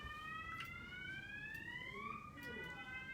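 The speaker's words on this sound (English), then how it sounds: "Looks like we've got a fire alarm happening over here." A fire alarm sounds a continuous electronic tone whose pitch shifts partway through, at a fair distance and fairly faint over low background noise, with no one speaking.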